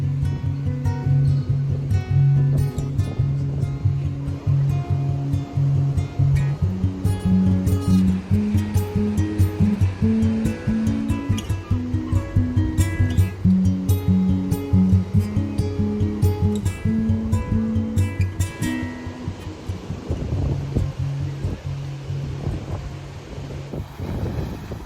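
Sea waves at a beach in Calpe, Spain, a steady wash of surf and wind noise under a recurring tonal drone, continuous and fairly close with no talking.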